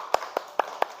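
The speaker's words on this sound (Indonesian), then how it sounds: "tepuk tangan untuk kelompok 1" Claps in a classroom during a coding and artificial intelligence lesson, five sharp, evenly spaced claps in quick rhythm, fairly faint.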